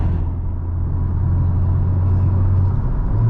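A Honda Civic Type R engine drones low and steady through a downshift, a loud, continuous rumble heard from inside the car with no talking.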